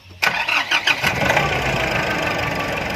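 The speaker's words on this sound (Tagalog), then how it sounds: "Try natin pa i-start kung okay na ba." A Nissan Urvan van engine that had failed to start cranks briefly and then catches, settling into a steady, loud idle close by.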